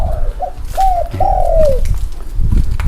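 A spotted dove coos close by in a short series of soft, tonal calls. The final coo is drawn out, over a low background rumble.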